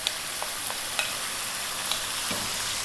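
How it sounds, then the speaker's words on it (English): Whole canned plum tomatoes, hand-chopped, going into a hot pan for a vegetable rigatoni sauce: a steady close sizzle and frying hiss with a few soft splashy clicks, no voices. "we're going to add canned tomatoes. In they go"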